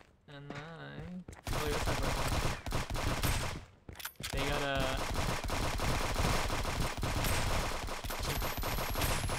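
Sustained gunfire from the multiplayer shooter Friends vs Friends rattles loud and continuous across most of the stretch, with a brief pause midway, while a voice talks over the opening and again after the pause.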